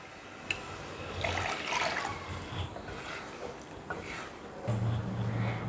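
Two tumblers of water are poured into a cooking pot for varagu millet kichadi, giving a close splashing, filling sound with a few clinks and a low hum near the end.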